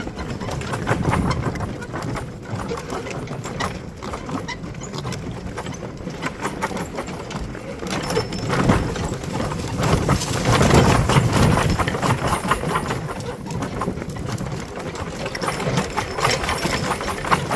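Steady rhythmic hoof steps and the scrape and rattle of farm gear as horses plod along, a continuous mid-level drone throughout.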